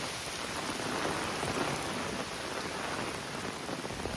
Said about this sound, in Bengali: কম দাম বৃষ্টি শুরু হয়েছে,